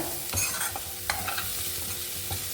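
Small yam stir-fry gets tossed and scraped in a pan, a few quick stirring clatters over a steady low sizzle, close up and with no talking.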